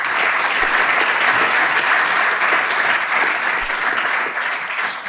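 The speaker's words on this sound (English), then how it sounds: "Give them once again one big applause." Sustained audience applause for award recipients at the LJSE Award Ceremony, a dense, steady wash of many hands clapping that holds at full strength throughout before easing slightly near the end.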